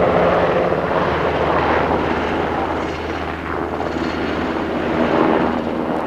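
A Black Hawk helicopter flies past at an air show carrying an underslung vehicle of just over 4,000 pounds on its cargo hook, its rotor and engine roar loud and broad, swelling and easing slightly as it moves.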